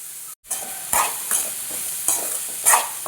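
Mashed potato is stirred into a frying masala for poori masala, a run of rhythmic scraping strokes over a soft, close sizzle.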